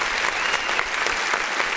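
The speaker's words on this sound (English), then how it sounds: "because my clap button wasn't working." Steady applause from a crowd, a clap-button sound effect, dense clapping that holds at an even level without pause for just under two seconds.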